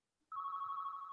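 A phone rings during a park authority meeting: after a short quiet moment a single sustained electronic ringtone starts and holds steady and clear, with faint room noise beneath.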